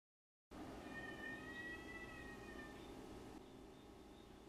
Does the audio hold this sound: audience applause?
no